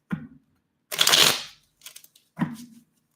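A deck of tarot-style cards is shuffled by hand: a few brief riffling bursts and soft flicks with pauses between, close and clear, with no talking.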